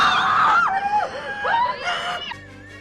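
A woman's piercing high-pitched scream from the 1989 film Sweet Home, wavering and rising in shrill bursts, loud and close, ending abruptly.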